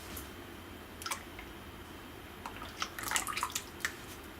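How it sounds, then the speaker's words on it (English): Pouring cream, about 600 ml, going into a mixing bowl: a faint, quiet pour broken by scattered soft drips and small splashes, with no talking. "Get a mixing bowl and add 600 mils of pouring cream or pure cream, like this."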